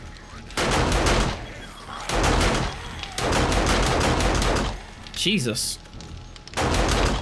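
Loud bursts of automatic gunfire from a weapon in the survival game 7 Days to Die, several sustained volleys separated by short pauses, with someone speaking briefly between them.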